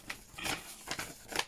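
Scissors snip through paper while making a botanical ephemera journal insert, with about four short, quiet cuts in quick succession and no talk.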